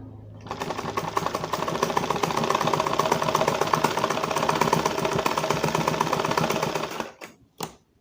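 A sewing machine stitches a coat with a loud, steady, rapid mechanical whirring that runs continuously for several seconds before stopping abruptly, followed by a few brief clicks.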